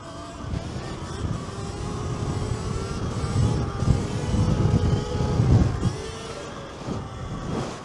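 Gas dirt bike engine while riding, a continuous rough, buzzing drone that rises and falls in intensity, close and fairly loud with no talk.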